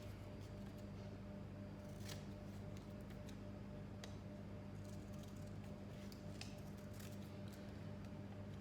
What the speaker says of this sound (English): So I'm going to cut some hands out.